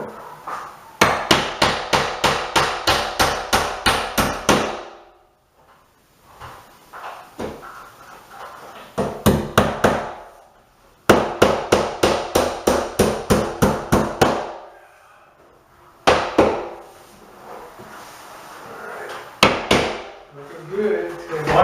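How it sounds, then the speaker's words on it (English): A hammer drives nails into a wooden crown trim piece in a bathroom renovation, with rapid bursts of sharp, loud, evenly spaced blows separated by short pauses. "So we'll go ahead and secure that, nail that down now"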